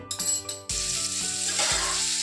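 Chicken pieces sizzle and crackle in hot oil in a wok, a dense bright frying hiss that jumps louder as they land, with a few soft stirring knocks and scrapes under it.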